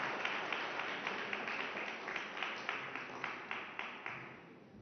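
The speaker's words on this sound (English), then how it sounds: "A round of applause for the signature of this agreement" Fairly quiet, steady clapping from a conference audience greets the signing of a Ukraine resilience and reconstruction agreement, with individual claps faintly distinct in a continuous patter.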